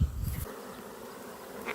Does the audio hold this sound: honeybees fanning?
yes